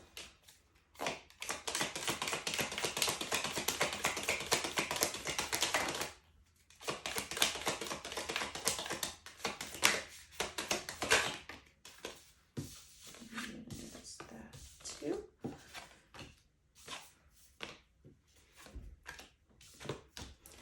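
Tarot cards are shuffled, drawn and laid down, producing a dense flurry of papery riffling followed by scattered soft taps and slaps, close and fairly quiet.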